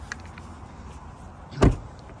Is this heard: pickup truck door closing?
yes